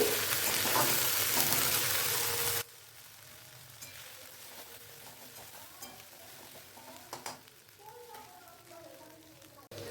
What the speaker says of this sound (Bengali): এই যে আদা রসুন বাটা দিলাম, দিয়ে একটু নাড়াচাড়া করতে হবে